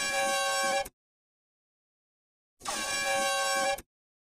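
Two loud blasts of an air horn inside a house, a short one and then a longer one, separated by silence.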